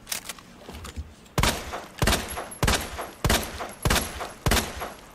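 Repeated gunshots fired in the video game Resident Evil 2 Remake, about six loud sharp blasts spaced roughly half a second to a second apart, each followed by a brief decay, with no talk over them.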